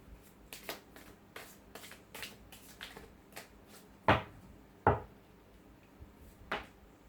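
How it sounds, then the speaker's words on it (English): Tarot cards are shuffled with quick, crisp riffling bursts, a few sharper snaps standing out, close by and with no talking. "Shuffle some more."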